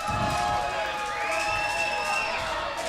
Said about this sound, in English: Listen to this crowd trying to get the Monster Abyss up to his feet.